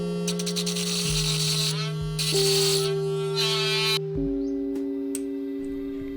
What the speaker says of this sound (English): Measure the needle and cut it out.